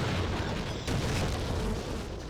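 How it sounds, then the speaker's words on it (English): Booming explosions from Half-Life running the Brutal mod, a dense continuous rumble of blasts filling the short stretch, loud and close with a brighter burst near the middle. "Explosions. They're pretty fun."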